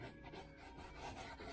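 Steady abrasive rasping of sandpaper rubbing back and forth over a repaired 1978 El Camino SS dash, close and continuous for a short stretch.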